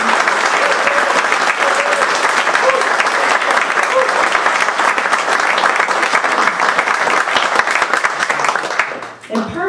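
An audience at a retirement presentation gives sustained, loud applause for nearly ten seconds, a thick, even burst of clapping that stops abruptly as a voice begins right at the end.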